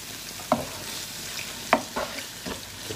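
Chicken jalfrezi sizzles in a pan with a steady frying hiss, broken by a few scraping strokes of a spoon stirring it, close and fairly quiet.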